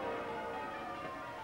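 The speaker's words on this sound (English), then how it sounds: "the bells of St. Paul's Cathedral rang out in celebration for much of the afternoon" Church bells of St. Paul's Cathedral in London ringing in celebration, heard as a steady, dense wash of overlapping bell tones at a moderate, somewhat distant level with no voices.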